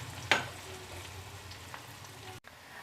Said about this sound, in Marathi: कांदा चांगला सोनेरी रंगावर आपल्याला चांगला हलकासा परतून घ्यायचा आहे.